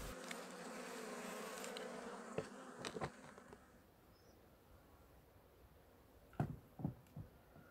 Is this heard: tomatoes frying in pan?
no